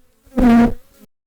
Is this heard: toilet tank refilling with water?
no